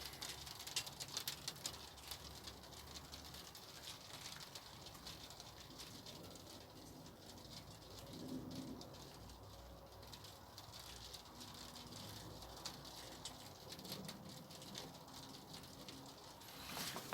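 Steady April rain patters softly over a UK allotment with a faint, constant hiss, while birds coo and call now and then.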